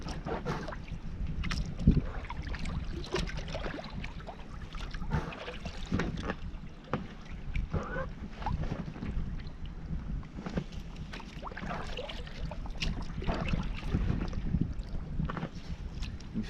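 An Alpaca pack raft is paddled backwards across open water in Scotland, giving steady splashes and paddle strokes under constant wind buffeting the microphone, with no talking.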